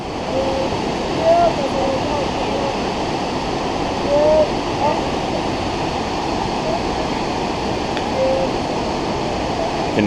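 Burney Falls waterfall roaring steadily from about 150 feet away, a broad continuous wash of water noise with faint bird chirps on top.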